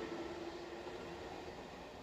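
An electric local train rumbles along steadily from inside a carriage, a constant low roar with a faint humming whine.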